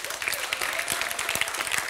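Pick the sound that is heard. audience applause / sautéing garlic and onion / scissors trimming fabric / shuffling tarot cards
audience applause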